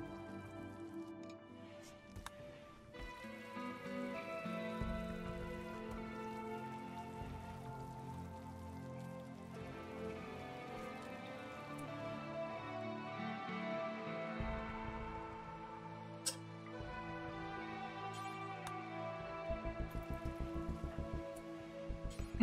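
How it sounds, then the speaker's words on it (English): Steady rain falls in the video game RimWorld, a dense patter spread evenly across the clip beneath sustained droning tones, with no talking. "It's raining outside"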